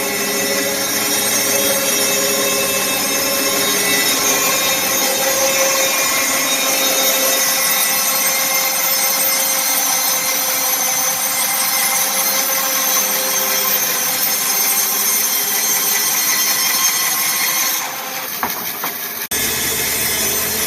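A saw blade resawing logs runs loud and continuous with a high singing whine from a blade needing sharpening, steady throughout before a brief shift near the end.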